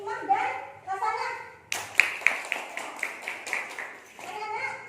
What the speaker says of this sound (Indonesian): Tepuk tangan untuk Hikmah dan Hasanah.